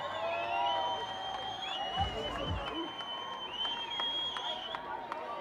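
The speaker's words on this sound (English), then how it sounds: "Crowd's getting louder." A crowd at a boxing champion's victory parade and celebration cheers and whoops in a dense, continuous roar, with scattered shouts and whistles rising over it.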